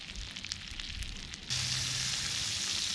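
Lobster cooking on a gas cooker, crackling and spattering at first, then a dense, loud hiss of sizzling that swells and holds steady close by, with no talk over it.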